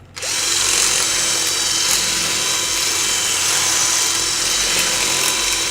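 A power drill bores into the plastic handle of a Hoover Platinum vacuum cleaner during a repair, a loud, steady, close whine that starts abruptly and runs continuously for several seconds.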